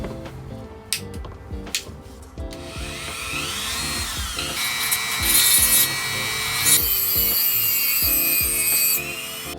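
A threaded curtain rod for a small Boler camper being cut off with a saw, several sharp strokes at first, then a steady close grinding run that rises in pitch and carries on to the end.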